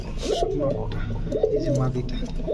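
Indian Lotan pigeons cooing in soft, repeated rolling coos at close range, with people talking over them at a market stall.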